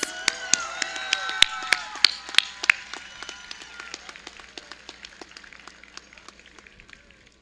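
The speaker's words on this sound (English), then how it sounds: "give one more round of applause to the valedictorian and salutatorians" Scattered claps at a high school graduation ceremony taper off into sparse, fading applause from a small crowd, with a few loud individual claps early on.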